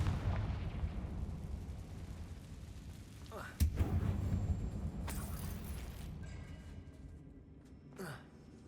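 A Confringo fire spell goes off in Hogwarts Legacy: a sudden sharp blast partway through, rising from a low rumbling game backdrop, with softer bursts and voices at times.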